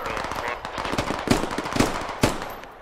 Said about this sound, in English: Yep, they're crossing the road. I'm gonna open fire.